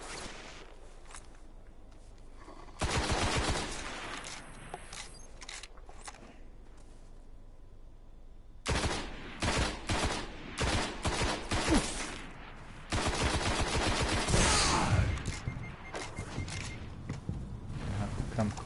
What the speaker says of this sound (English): So that's a fusion weapon.